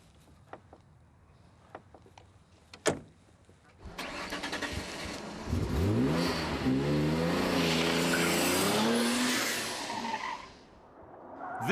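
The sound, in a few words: Noble M12 GTO sports car engine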